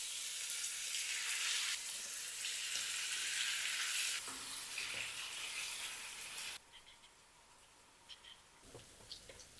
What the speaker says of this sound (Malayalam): വെളിച്ചെണ്ണ ചൂടായതിനു ശേഷം മസാല മിക്സ് ചെയ്ത് വെച്ചിരിക്കുന്ന ചിക്കൻ ചേർത്ത് വറുത്തെടുക്കണം